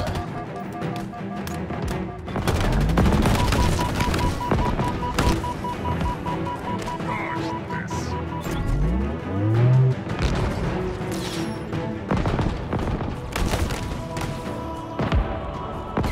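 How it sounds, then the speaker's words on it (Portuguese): Halo Infinite gunfire in a shooter game: loud, repeated weapon shots and impacts with sweeping whooshes and booming hits, dense and continuous over a musical game soundtrack, no speech. "A sensação de disparo é excelente e há que referir o feedback de acertarmos"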